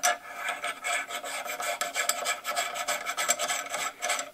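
A Midwest Industries barrel nut is turned by hand onto a 6.5 Grendel rifle build, giving a steady, close metallic rasp and scrape with small rhythmic pulses throughout, and no talking.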